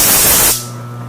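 Compressed air blasts hard at a part while cleaning pecker tracks, a loud broad hiss lasting about half a second that then cuts off, leaving a low steady hum.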